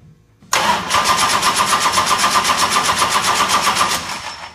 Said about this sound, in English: we're going to crank the engine with 2-gauge total power battery cable